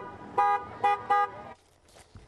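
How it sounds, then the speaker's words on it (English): Cars lined up for a birthday parade in New Jersey honoring a 97-year-old WWII veteran sound their horns: three loud, close toots in quick succession, then quieter, more distant honks and a faint rumble of traffic. "Cars lined up and honked their horns with balloons and messages for 97-year-old Harry Chakmakian"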